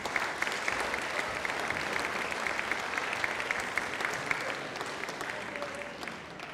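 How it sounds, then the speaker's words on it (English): Steady applause from an audience at a high school band concert, many hands clapping in a dense, even wash that holds for several seconds without a break. "can we give a round of applause to these two gentlemen?"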